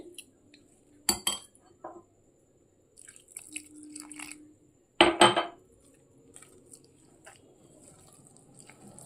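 Aloo paratha batter being stirred as water is added a little at a time, with sharp scraping clinks of a utensil against a bowl at two moments and soft wet stirring between them, fairly close, with no talking.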